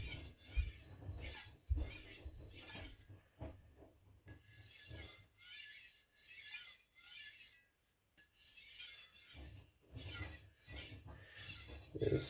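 A knife edge is burnished on a fine sharpening stone with rhythmic back-and-forth strokes, producing a soft, close, scratchy rasp that repeats in even bursts with a few brief pauses.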